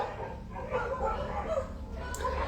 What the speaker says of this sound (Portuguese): Estão ouvindo os cachorros?